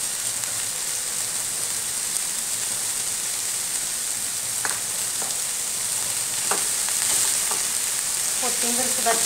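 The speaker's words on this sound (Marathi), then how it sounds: "कोथिंबीर सुद्धा छान मिक्स करून घ्यायची आपल्याला" Fresh coriander being stir-fried into a ground spice paste for kothimbir vadi, a steady loud sizzle and hiss of frying filling the whole stretch, with a few soft scrapes of stirring and no talk.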